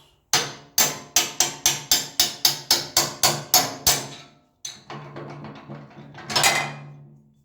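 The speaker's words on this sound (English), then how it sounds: "Drive out the pins." A hammer drives out the pins of a Kubota B7100 tractor's loader bucket: about a dozen loud, evenly spaced metal-on-metal blows close up, a short pause, then scraping and clanking as the pin slides free.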